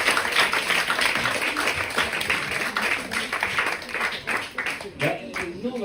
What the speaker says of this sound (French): j'aimerais qu'on applaudisse Martine